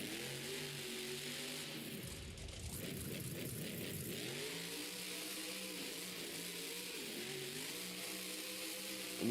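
A car engine revs continuously through a drift, its pitch rising and falling in a steady mid-range drone, fairly close and uninterrupted, with no talk over it.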